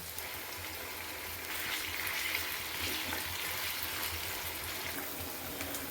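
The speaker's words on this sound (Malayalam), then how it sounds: "ഇതിനി കഴുകി വെക്കട്ടെ ഞാൻ" A kitchen utensil is rinsed under a running tap in a home kitchen, with a steady, even rush of water that holds for the whole stretch and no voices.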